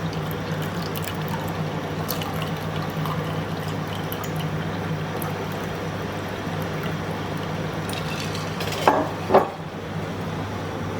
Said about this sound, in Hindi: अब मैं इसमें ऐड करूँगी 3 ग्लास ऑफ वाटर।